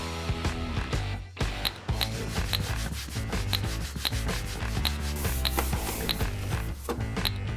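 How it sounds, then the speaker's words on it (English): Cloths soaked in anti-silicone cleaner rubbed hard around the necks of plastic jerry cans, giving a steady, rhythmic scrubbing and squeaking close up, with no voices. "we soak some cloths with anti-silicone cleaner and thoroughly degrease the neck of each jerry can"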